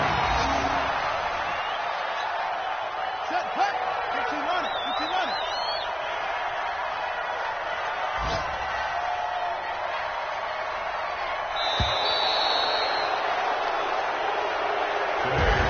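A stadium crowd at an American football game keeps up a steady roar in the background while a broadcast commentator talks over it.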